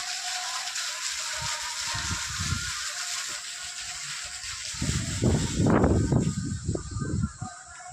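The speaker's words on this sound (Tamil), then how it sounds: "அது போக மீதி இருக்க தண்ணி தான் அப்படியே கிணத்துக்குள்ளே ஊற்றுது." Water splashes and gurgles in irregular bursts, pouring and sloshing down into a deep well, with a steady hiss in the background.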